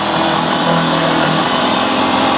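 An electric magic blender whirs steadily as it chops cucumber, a loud, close, continuous motor drone with no pauses.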